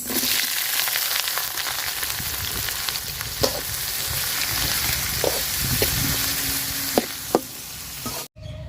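Whole spices, cardamom, cinnamon and bay leaves, fry in hot oil with a loud continuous sizzle, close up, broken by a few sharp clicks of a utensil on the pan.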